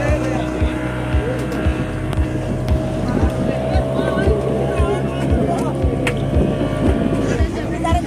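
A speedboat roars while towing a bumper ride at a Goa water sports spot, its engine droning loudly and steadily close by with rhythmic hull thumps on the waves, as people talk over it.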